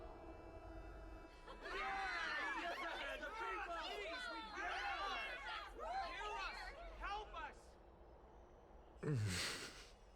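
A crowd of many voices in Honkai: Star Rail chattering and murmuring together, busy and steady, with a louder shout near the end.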